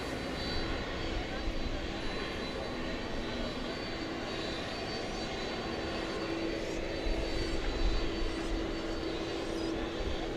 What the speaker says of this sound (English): It's another Airbus A320.